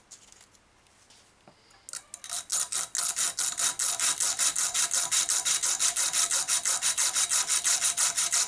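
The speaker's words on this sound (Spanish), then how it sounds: "Voy a ir lijando." Someone hand sands a homemade dimple guitar pick with quick, even back-and-forth strokes, a rhythmic rasping scrape that starts up and then repeats loud and close for several seconds.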